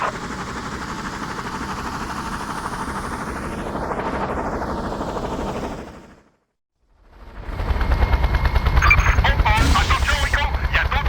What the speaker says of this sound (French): Attention, Rico, il y a d'autres hélicos qui se pointent.